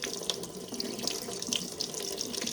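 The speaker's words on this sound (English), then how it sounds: "Okay, so I have my cold water going." A cold-water kitchen sink tap runs steadily, a continuous close hiss and splash of water into the basin with no voices over it.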